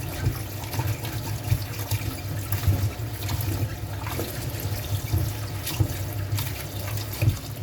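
Sliced bitter gourd is rinsed under a running kitchen tap, giving a steady, close splash of water with small irregular clatters throughout and no talk.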